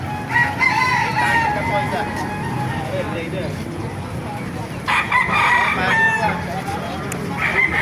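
Roosters crow repeatedly amid clucking chickens of Talisay, Hiraw and SBR breeds, with a vehicle engine humming in the background and some voices nearby.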